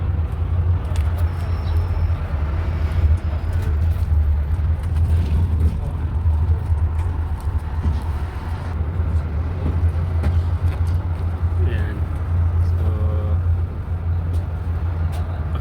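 Steady road traffic of cars heard from aboard a double-decker bus during afternoon rush hour, a continuous low engine rumble with passing vehicle noise and no talk.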